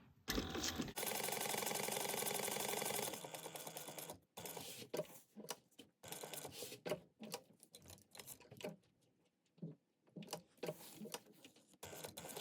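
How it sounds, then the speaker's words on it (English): A sewing machine stitches around the edge of a fabric box, starting with a steady run, then breaking into short stop-start bursts of stitching with quiet gaps between them. "you're going to sew around your box, and then you can back stitch at the beginning and the end if you want"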